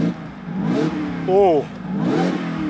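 A Ford Raptor R engine revs in bursts through its selectable exhaust mode, rising and falling in pitch with a loud, close, throaty exhaust note. A voice briefly exclaims over it.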